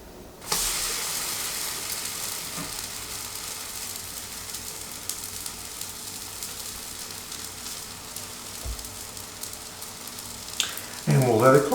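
Sourdough starter batter fries in a hot pan just after being flipped, giving a loud, even sizzle that stays steady throughout before a brief clatter at the end.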